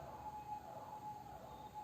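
An ambulance siren sounds outside during a COVID lockdown, a steady, faint high tone held throughout against low background hum, with no talking.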